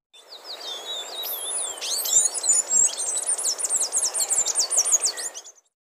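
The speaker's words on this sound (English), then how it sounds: "Palm tanager." A palm tanager calls in a rapid run of high, thin chirps and twittering notes, continuous and fairly loud for several seconds before cutting off.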